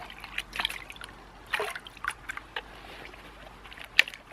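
Water trickles and splashes in a small bucket while gold is pre-panned, with soft irregular drips and swishes up close over a quiet background.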